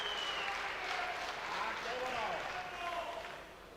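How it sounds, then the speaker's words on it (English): Crowd applause and cheering at a superheavyweight men's powerlifting competition at the World Games 2017, a broad steady roar of clapping and voices that stays loud throughout and eases slightly near the end. "David Loopback comes out to enormous cheer from the crowd."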